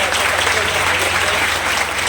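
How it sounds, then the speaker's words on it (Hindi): Loud, steady applause from an audience at a poetry gathering marking a Mewar social worker's birth anniversary, a dense continuous clatter of many hands with a low hum beneath, sustained without pause. "एक बार जोरदार तालियां साहब"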